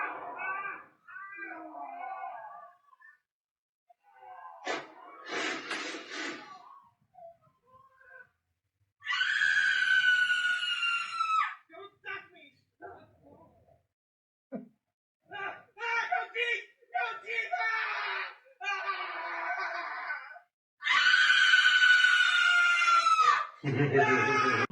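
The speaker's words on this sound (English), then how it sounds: "I sent you a scream clip too, yes, with my actual scream" A woman's real screams ring out in long, loud, high bursts, alternating with quieter stretches of speech-like sounds and brief pauses.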